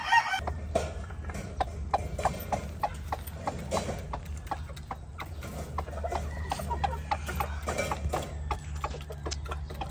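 On a farm, a gamefowl brood stag crows and clucks among other fowl, with a busy outdoor backdrop of scattered clucks, sharp calls and steady low background noise.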